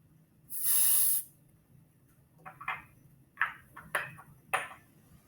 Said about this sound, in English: Let's spray hairspray into the jar, put some ice on top,